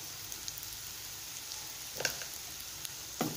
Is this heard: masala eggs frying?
yes